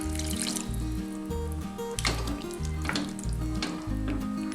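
Hot water poured into a pan of vegetable stew, a steady sizzling and bubbling wash of liquid that swells around the two-second mark, with a loud background music track playing throughout.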